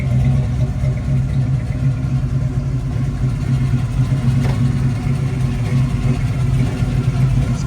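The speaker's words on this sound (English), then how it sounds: "Great sounding exhaust. Awesome running car." A 1973 Chevrolet Camaro coupe with a 350 V8 (5.7 L) and TH350 automatic idles, its exhaust giving a deep, steady rumble close by.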